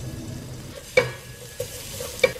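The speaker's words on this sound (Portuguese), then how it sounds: "Vou fritar o meu alho." Garlic frying in vegetable oil in a pan, a soft steady sizzle with a few sharp utensil clicks and scrapes from stirring, close and moderately quiet with no talking.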